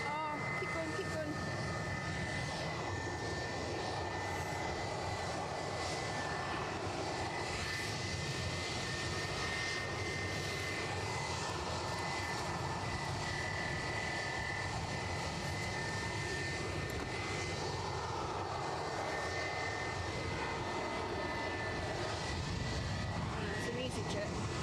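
Jet engines of an EasyJet airliner at Edinburgh Airport make a steady, loud roar with a faint whine, sustained through the whole stretch, while people talk over it.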